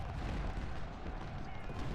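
Musket volley fire on a Civil War battlefield in the Chickamauga strategy game, a dense, continuous rumble of massed rifle shots and booming reports with muffled speech faintly mixed in.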